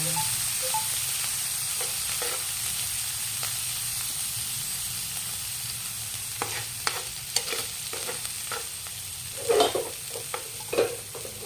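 Beef pancreas frying and being stirred with browned garlic in a pan, a steady low sizzle with scattered sharper crackles and spatula scrapes growing busier toward the end, no voices.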